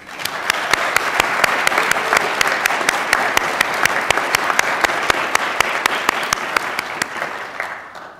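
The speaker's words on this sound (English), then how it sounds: "give everybody a big round of applause" A graduation ceremony audience applauds steadily for about eight seconds, a dense and loud spread of clapping with sharp individual claps standing out, fading slightly at the end, with no talking.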